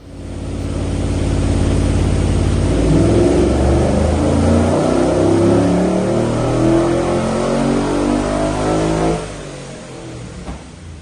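Walkinshaw 407 ute engine revs hard through aftermarket exhausts, a loud, close, deep roar building and holding through several rising revs before cutting off abruptly near the end.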